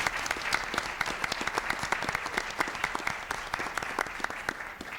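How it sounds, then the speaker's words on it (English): An audience applauds steadily at a panel event on the Latino vote, dense clapping sustained at even loudness throughout with no speech over it. "please give them a big round of applause"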